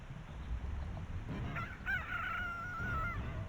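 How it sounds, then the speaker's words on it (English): A rooster crowing in the underwater area of The Legend of Zelda: Ocarina of Time, a single warbling, slightly muffled crow standing out over a low game rumble. "The fucking underwater rooster"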